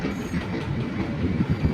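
A passenger train slows as it pulls onto the platform at Dewanhat railway station, its wheels giving a steady rumbling clatter close by, fairly loud and without talk.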